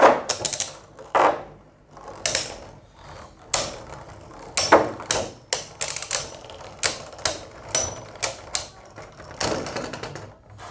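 Beyblade tops Cyclone Belial and Astral Spriggan battle in a stadium, giving sharp irregular clacks and collisions in quick clusters, close and moderately loud, with no voices.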